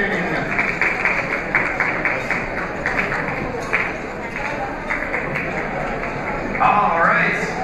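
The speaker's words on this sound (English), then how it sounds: "Give her a big round of applause." Audience applause at a banquet, a steady wash of clapping from a crowd that holds at an even level throughout, with voices mixed into the noise.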